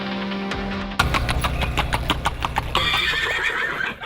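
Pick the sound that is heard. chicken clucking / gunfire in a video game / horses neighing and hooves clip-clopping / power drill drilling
horses neighing and hooves clip-clopping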